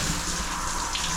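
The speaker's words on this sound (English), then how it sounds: "So I'm gonna take a shower." A shower runs steadily and close by, giving a dense, continuous rush of water with no breaks and no voices.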